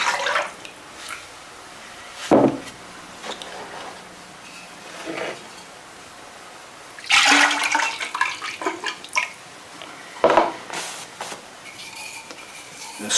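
Thick liquid glaze poured into the interior of a clay slab piece: a few separate bursts of close sloshing and splashing, with quiet gaps and light clinks between them.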